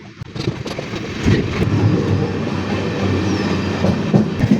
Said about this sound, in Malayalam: ട്രെയിൻ വളഞ്ഞ് ചങ്ങനാശ്ശേരി റെയിൽവേ സ്റ്റേഷനിലേക്ക് കയറിയിരিക്കുവാണ്